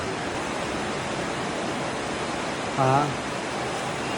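A large river, the Aare in a deep Swiss gorge, rushes in a steady broadband roar, with a brief voice heard near the end.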